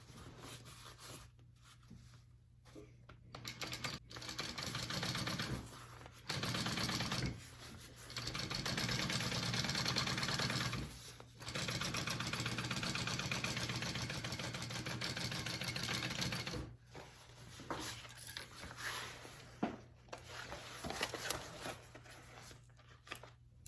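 A sewing machine top stitches the lining of a backpack in several long runs, each a steady close whir broken by short pauses between seams.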